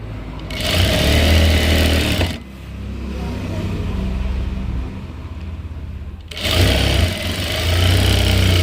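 Loud, close whirring of a sewing machine stitching a folded slit in fabric, running steadily in two bursts separated by a softer, lower-pitched stretch of motor hum.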